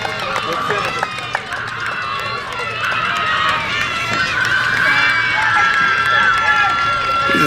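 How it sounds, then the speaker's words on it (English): Spectators lining the outside of the field at a middle school girls' state championship cross-country race cheer runners on, a steady wash of crowd voices and shouts that swells toward the end and continues without pause. "we have people lining the entire outside of the field cheering"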